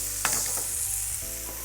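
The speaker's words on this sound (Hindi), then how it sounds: "अदरक को हाई हीट पर 30 सेकंड्स के लिए पकाना, उसके बाद उसमें जाएगा टमाटर।" Ginger cooking on high heat in a pan as chopped tomato goes in, a steady close sizzle with a brief clatter of stirring near the start.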